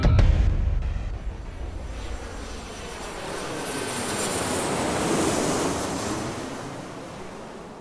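Airplane arriving, a loud low roar at the start easing into a broad, sustained whoosh of jet noise that swells again midway, with a surf-like wash and no voices.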